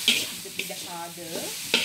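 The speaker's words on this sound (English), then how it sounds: "Okay, we have to stir it. Okay, nicely, evenly." Grated coconut and brown sugar being stirred in a pan, with a few soft scraping strokes and light sizzle, brief clinks at the start and end, and a faint tonal hum in the middle.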